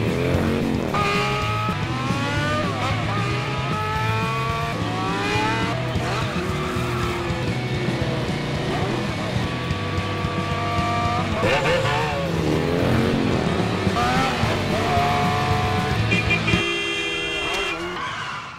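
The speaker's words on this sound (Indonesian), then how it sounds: "Sementara Ryuji menggeber motornya mengejar Kumia" A motorbike revs hard during a chase scene in an action series, with loud shifting engine whine, skidding, tire squeal and a horn toot, mixed under speech and soundtrack across the whole stretch.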